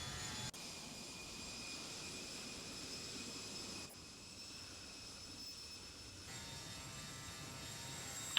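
A King Air 350 rumbles steadily in the X-Plane 11 flight simulator, its turboprop engines droning as it takes off, faint and continuous with brief clicks and shifts in tone.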